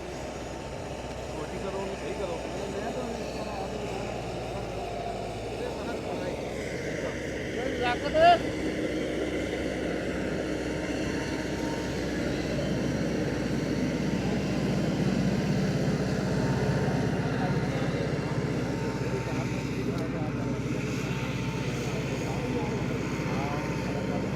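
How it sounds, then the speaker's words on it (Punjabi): A Millat MT 390 tractor engine drones steadily at low pitch while pulling a 13-tine cultivator, growing slightly louder as it works, with faint voices at times. "ਜੀ ਆ ਰਿਹਾ ਟਰੈਕਟਰ"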